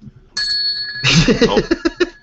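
During a live hockey podcast a bell rings with a bright, lingering tone, soon joined by a burst of overlapping voices and a short, close run of knocks and clatter.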